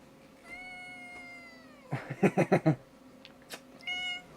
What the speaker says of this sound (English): Yes, that's a cat.